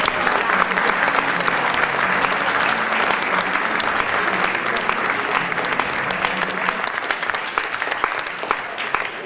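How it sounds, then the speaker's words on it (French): Loud, sustained audience applause at a Jewish community tribute gathering in Corsica, many hands clapping steadily and dense throughout, tapering slightly toward the end. "Je voudrais qu'on les applaudisse très fort."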